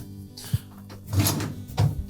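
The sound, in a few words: GE dishwasher door being opened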